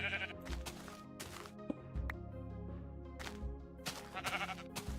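Sheep in a video game bleat several times in a row, clear and fairly close, over a steady bed of game sound.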